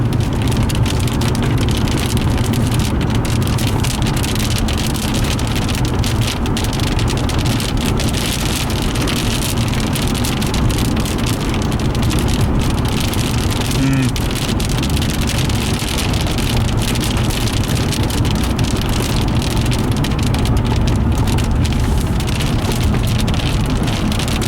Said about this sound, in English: here comes some big raindrops